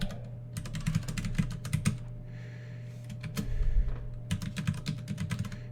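Fingers typing on a computer keyboard during a live coding session, bursts of quick key clicks separated by a pause, close and clear, with a steady low hum beneath.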